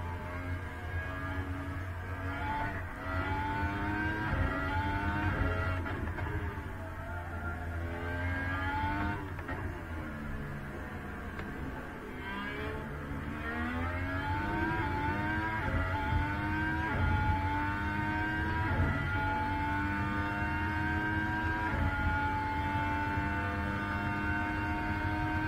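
Several Formula 1 cars racing wheel to wheel at 2020 pre-season testing, engines whining at high pitch with shifting tones as they chase past. A steady, loud roar runs throughout with no talk.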